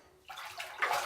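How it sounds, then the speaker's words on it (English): Cold tap water splashes and runs into a sink as someone rinses their face, a short burst of broadband splashing that grows louder toward the end. "Let's rinse in cold water."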